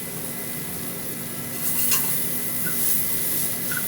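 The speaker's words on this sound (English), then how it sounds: "So we're sauteing this apple." Apple pieces sautéing in a hot pan give a steady, soft sizzle and hiss, with a few light scraping touches near the end, close up and with no talking.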